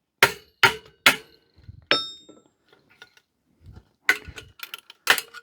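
Prying apart a steel casing with a screwdriver on old shed tools, sharp metallic clanks and knocks in separate bursts, with a few louder strikes near the start and end and quiet scraping between.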